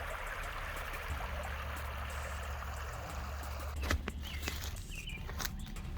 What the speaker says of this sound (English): I'm gonna have to cross this river.